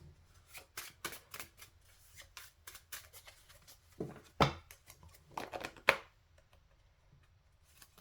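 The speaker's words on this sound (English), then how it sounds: "I do want to draw a couple of oracle cards to get a general vibe" Oracle cards being shuffled by hand, a quiet run of quick papery flicks and riffles in bursts, with a couple of louder snaps of the deck near the end and no talk.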